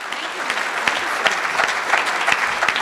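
Audience applause at a kavi sammelan poetry gathering, a steady dense wash of clapping from a crowd that holds an even level for the whole stretch, with no voices over it.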